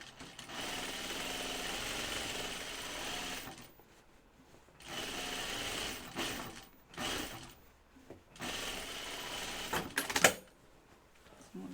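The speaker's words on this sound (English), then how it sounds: "Put in my basting stitch between the notches." A sewing machine runs a basting stitch in several fast bursts separated by short pauses, close and clear with no talking.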